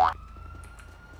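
A police car siren wails steadily at a faint distance after a short loud burst, in a video game where a convenience store robbery leads to a police chase.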